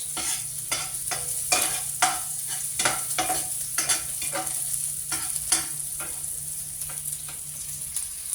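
Garlic and onion fry in a pan with a constant bright sizzle, broken by regular scraping stir strokes about once a second, close and steady with no talking.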